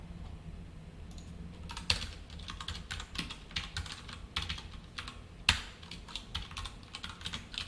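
Code being typed on a computer keyboard during a Java programming lesson: steady, quiet clicking of keys in irregular bursts, with a few sharper keystrokes and no voice.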